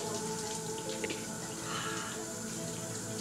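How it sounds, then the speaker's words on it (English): Water splashes and runs steadily in a shower, a constant close spray with small bursts of splashing over the top, no voices. "A little splash here, a little splash there."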